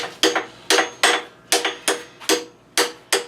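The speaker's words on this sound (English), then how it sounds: "Hit it with a hammer." A hammer strikes a pin on a motorcycle foot peg, seven sharp metallic blows in a steady rhythm, each ringing briefly, close and loud with no talking.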